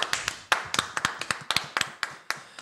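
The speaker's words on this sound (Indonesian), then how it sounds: "Tepuk tangan untuk Sumatera Selatan." A small group claps for the Sumatera Selatan team at a children's religious quiz contest, sparse and uneven individual claps in a quiet room with no talk.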